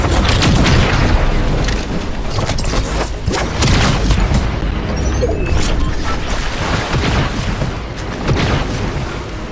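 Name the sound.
bomb explosion in the video game Fortnite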